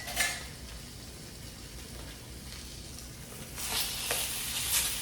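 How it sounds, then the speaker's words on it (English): Food being stirred in a small camping pot of stew with a military spoon, giving soft scraping and gentle sizzling that swells into louder clinks and scrapes near the end. "And now let me stir some of this food up."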